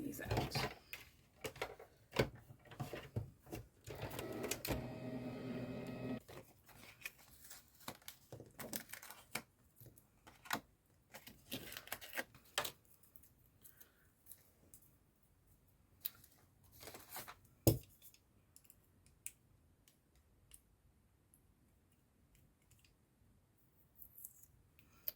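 Recycled Christmas card pieces are being cut out with a steady run of close paper snips and crinkles, dense at first and then thinning to scattered cuts and rustles near the end.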